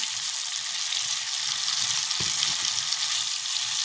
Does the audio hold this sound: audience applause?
no